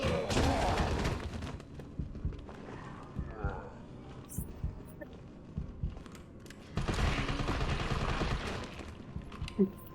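Rapid gunfire bursts and explosive blasts from a video game battle play at moderate level, loudest at the start and again toward the end, with game noises and voices underneath.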